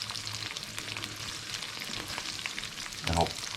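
Small prawns, about eight, frying in a pan: a steady broadband sizzle runs throughout, with a brief louder burst near the end as they shift in the hot oil.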